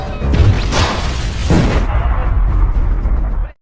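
A grenade blast in an action film booms loud and close, a heavy rumbling burst with a second impact about a second later, then a long roaring tail that cuts off abruptly.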